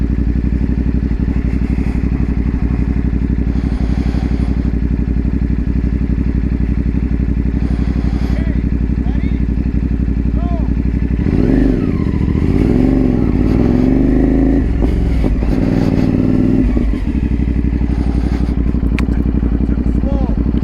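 A motorcycle engine idles loud and close throughout a Michigan endorsement riding test, a steady throbbing rumble that rises briefly as it revs partway through, with speech faintly under it.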